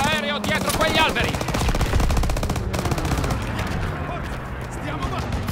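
Rapid bursts of heavy automatic gunfire from an anti-aircraft gun in the World War II shooter Call of Duty: WWII, with shouting voices in the mix, loud and sustained.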